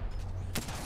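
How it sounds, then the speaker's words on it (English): A single sharp sniper rifle shot fired without the scope in a video game, one loud burst near the middle over a steady bed of game noise. "Just shot a nose scope at him."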